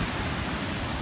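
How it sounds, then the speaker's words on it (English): Ocean waves break below sheer cliffs on the Portuguese coast between Salema and Sagres, a constant broad roar of surf with no voices. "Waves breaking."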